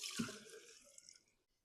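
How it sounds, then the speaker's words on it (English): Fuel from a vintage Stihl 038 chainsaw is poured into a clean glass container, making a short, faint liquid splash and trickle that fades within about a second. "Got a clean glass container here. We'll pour it in."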